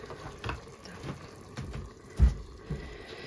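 Water poured into a multicooker while liver cooks, a soft trickle with light mechanical clicks and a thud, quiet and close in a home kitchen.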